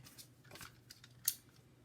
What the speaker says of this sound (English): I cut the base paper in half